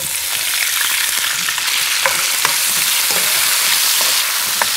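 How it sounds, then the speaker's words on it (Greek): Cherry tomatoes sauté in olive oil with salt in a deep pan, giving a steady, close sizzle broken by faint scraping stirs and small pops throughout. "Θα σοτάρουμε για λίγη ώρα τα ντοματίνια"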